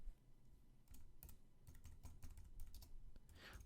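Quick bursts of computer keyboard typing, close and fairly quiet, with irregular clusters of keystrokes and no talking.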